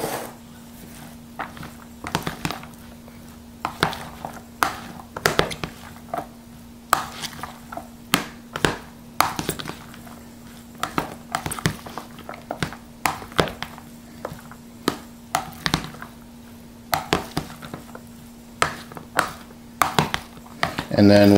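Rice and red beans are mixed in a digital cooker, with irregular thuds, taps and scraping knocks of a utensil against the pot repeating throughout at close range under a constant low hum.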